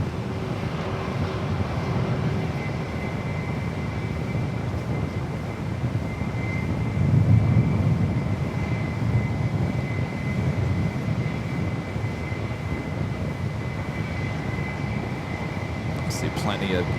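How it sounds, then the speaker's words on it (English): An Airbus A330-200 airliner at San Francisco airport, its steady jet engine roar and high whine carried on wind noise at a distance, swelling briefly midway. "One of my favorites, the A330-200 in this livery."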